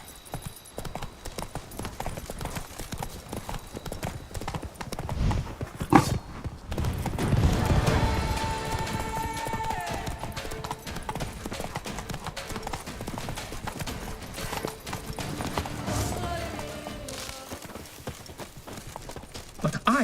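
Roach, Geralt's horse in The Witcher 3, trots along with steady clip-clop hoofbeats and an occasional whinny, heard under game music, ambient sound and a voice speaking.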